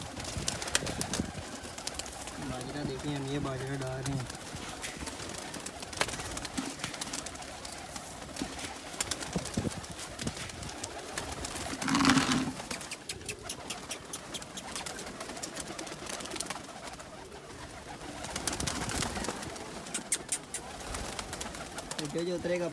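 Pigeons cooing softly and intermittently while millet is scattered for them, with faint rustling and a brief louder burst near the middle.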